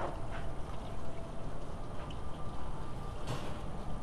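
Engine coolant draining from a removed hose on a VW A4 2.0L engine, a steady gurgling pour of liquid that runs continuously at moderate volume, with a couple of faint clinks.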